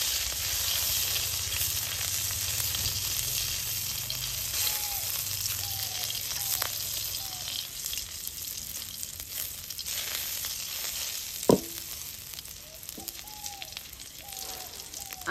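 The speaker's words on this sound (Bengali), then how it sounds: "সব কিছু খুব ভালোভাবে ভেজে নিচ্ছি।" Ginger, green chilli and mustard seeds frying in oil give a steady, close sizzle that runs the whole time, with faint clinks and a brief sharper knock near the end, no talking.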